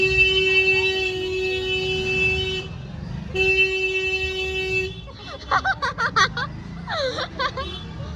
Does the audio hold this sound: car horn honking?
yes